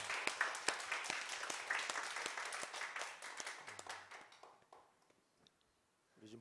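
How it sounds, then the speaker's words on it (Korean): A church congregation claps together, the dense clapping fading into scattered claps and then silence, with a brief sound at the very end. "자, 박수 한번 합시다."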